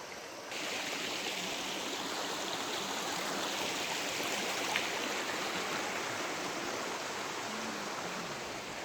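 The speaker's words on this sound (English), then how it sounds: "Some nice water sounds down there." A stream rushes steadily down in a ravine in the distance, a soft continuous wash of flowing water with no voices.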